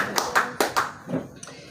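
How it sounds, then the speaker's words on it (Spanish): Hands clap in a short burst of applause from a church congregation, several sharp claps over about a second and a half, close, with voices mixed in underneath. "Démosle un aplauso al Señor"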